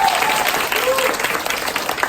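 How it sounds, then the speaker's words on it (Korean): Big round of applause from an audience at a business group meeting, dense clapping mixed with crowd noise and some talking over it, fairly loud and sustained. "이현 선생님 다시 한번 큰 박수 부탁드리겠습니다."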